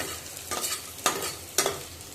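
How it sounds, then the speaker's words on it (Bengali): Cashews and raisins fry in a pan for pulao under a soft continuous sizzle, broken by three distinct scraping stirs spaced about half a second apart. "কাজু কিশমিশটা ভাজা হয়ে গেছে,"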